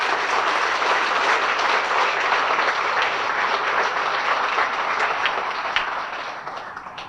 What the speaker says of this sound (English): And if you could just give them a round of applause.